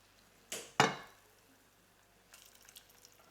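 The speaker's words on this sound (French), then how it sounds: "On va le verser dans les ramequins." Caramel is poured into ramekins in a quiet kitchen: two sharp splashing pours close together, then faint trickling and clinking a moment later.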